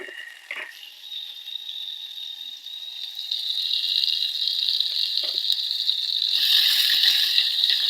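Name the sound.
mustard seeds spluttering and curry leaves frying in hot oil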